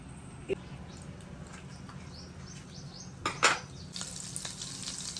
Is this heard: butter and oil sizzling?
yes